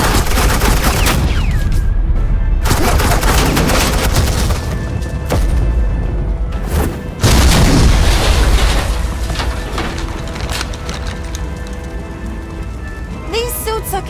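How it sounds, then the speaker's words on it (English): Gunfire in Batman: The Enemy Within rattles as a dense, sustained barrage like heavy rain, loud and continuous with a few sharper booms and a brief lull midway. "This is Agent Quinn, suppressing fire."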